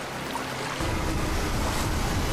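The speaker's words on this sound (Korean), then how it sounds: "온 세상을 집어삼킬 듯 거대한 폭포에 빨려 들어가기 일보 직전" A huge waterfall's rushing water in the 2018 Tomb Raider film, with a broad, loud roar that surges in after a brief quieter, rumbling moment and then pours on steadily.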